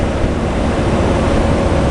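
The Columbia River's water gives a steady broadband rush like surf or flowing water, with wind buffeting the microphone, continuous and fairly loud with no talk.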